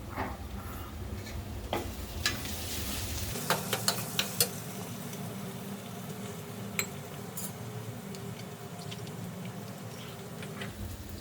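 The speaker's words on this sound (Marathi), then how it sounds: "आपण हे पाणी घालून मिक्स करून घेऊया" Red chili powder and turmeric masala being stirred into water with a spoon in a small bowl, giving soft scraping and a few light clinks against a low steady background hum.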